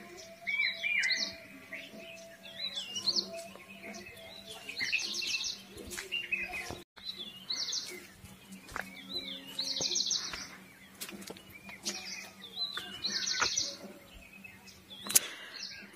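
Birds chirp and tweet in short repeated bursts around a quiet Himachal village, the calls fairly close and clear over a faint steady hum, with no talking.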